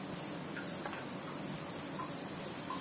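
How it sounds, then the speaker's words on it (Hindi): Batter poured onto a hot oiled griddle gives a steady soft sizzle with a few light ticks, quiet and close, no one speaking. "अब हम इसमें बैटर डालेंगे"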